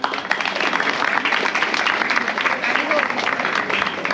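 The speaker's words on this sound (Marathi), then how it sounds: "टाळ्या वाजव टाळ्या वाजव सर्वांनी" An audience at a Marathi paithani game event in Shrivardhan claps for the winner, a continuous, fairly loud patter of many hands with voices mixed in.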